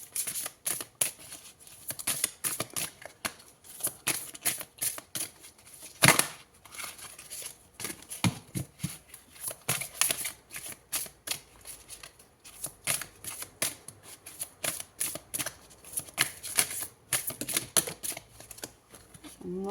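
Deck of cards shuffled and flicked for a horoscope reading, a rapid crisp fluttering of riffles and snaps in close, dense bursts, with quiet talk in French around it.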